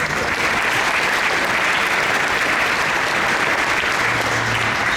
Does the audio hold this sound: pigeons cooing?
no